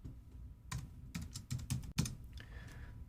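Clicky computer keyboard typing as an email address is entered, short irregular bursts of keystrokes close to the microphone, no voices.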